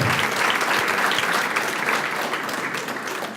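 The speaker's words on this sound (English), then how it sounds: "Yeah, round of applause." Loud, dense audience applause at a political candidates' forum for Florida governor and attorney general, sustained and close, tapering only slightly at the end.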